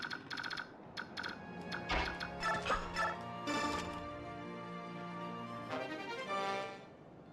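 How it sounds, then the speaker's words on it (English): Birds gobble in repeated turkey-like bursts in the video game Fire Emblem: Path of Radiance, mixed with keyboard clicks at a moderate, fairly quiet level throughout. "Okay, now I need to watch for these stupid birds."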